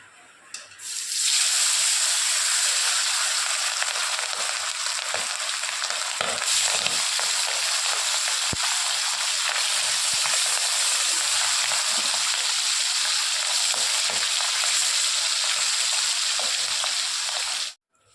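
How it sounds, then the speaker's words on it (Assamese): Hilsa fish frying in hot oil makes a steady, loud, dense sizzle that starts after a brief quiet moment and runs evenly for about sixteen seconds before cutting off abruptly, with no voices. "এইখিনি মই এতিয়া ফ্ৰাই কৰি ল'ম।"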